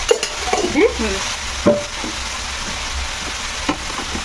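Tomatoes and whole garlic cloves frying in a pan, stirred with a utensil in scraping bursts over a steady close sizzle, no one speaking.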